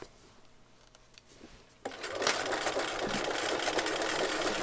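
A sewing machine stitches fabric in concentric circles, starting after a quiet pause and then running steadily and fairly loud with a continuous whirring buzz until the end.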